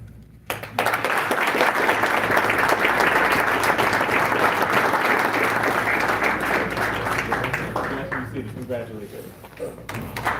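A graduation audience breaks into loud, sustained applause, a dense wash of clapping that continues for several seconds with voices mixed in before tapering off slightly.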